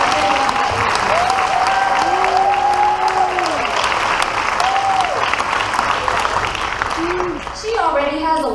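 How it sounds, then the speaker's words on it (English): An audience at a school board meeting breaks into sustained, close applause for a five-time state champion athlete, with a voice speaking briefly as the clapping fades. "let's give 5-time state champion Tiana Perry a big round of applause"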